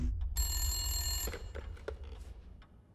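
An old telephone bell rings in the horror video game Resident Evil Village: Shadows of Rose, a sharp metallic ring lasting about a second followed by fainter clicks and thuds in a quiet room.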